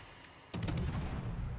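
Ship guns of 120 mm calibre fire in a World of Warships naval battle, a sudden loud burst of cannon blasts that rolls into a sustained rumbling boom, with no talk over it.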